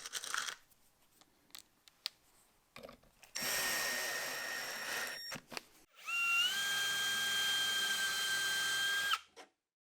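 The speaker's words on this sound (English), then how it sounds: "I can pre-drill the holes for the clips so I can install the doors." Cordless drill boring holes for cabinet door hinge clips through a Rockler Jig-It guide on a sink cabinet, two sustained whirring runs of a few seconds each after quiet handling clicks, close and alone.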